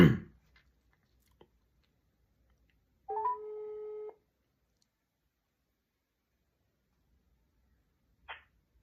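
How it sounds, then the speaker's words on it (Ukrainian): A telephone call to a barbershop gives one electronic ringback tone of about a second, clean and steady against near silence, framed by a few small clicks and a short rustle, with no talking. "починаємо телефонувати до барбершопу"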